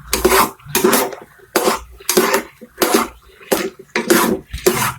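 A spoon scrapes around a kadhai as sabooni halwa is stirred continuously, giving rhythmic loud scraping strokes roughly every half second, close up and without talk.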